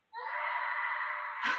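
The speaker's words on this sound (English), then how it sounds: "my son is screaming to the top of his lungs" A young boy screams at the top of his lungs, one loud, sustained, high-pitched shriek that holds steady and then breaks slightly at the end, close to the microphone.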